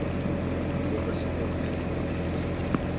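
A motorized bangka engine drones on without a break, a constant low rumble heard up close. A small knock sounds near the end.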